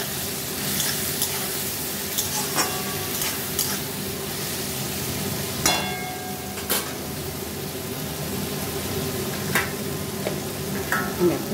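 Salted vegetable for a chutney sizzles steadily in a pan while it is stirred, with soft scrapes and clinks recurring every second or two at close range.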